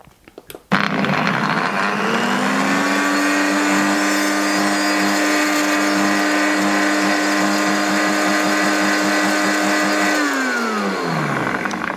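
A blender whirs loudly in a short burst, briefly mixing mustard and egg for homemade mayonnaise, starting with a click and a steady high motor whine that winds down at the end.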